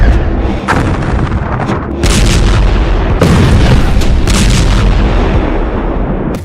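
Continuous heavy booming and roaring from missiles and explosions on a Gaza war battlefield, dense and loud throughout, with surges of rumbling blasts layered over one another.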